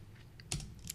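Someone types on a computer keyboard, with a few soft, quick key clicks close by in a quiet room and no talk.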